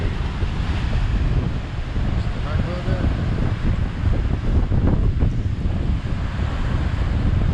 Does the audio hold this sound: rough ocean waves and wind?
yes